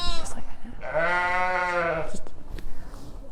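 A Shetland lamb gives one loud, drawn-out bleat of about a second at a farm, with faint rustling and handling noises around it.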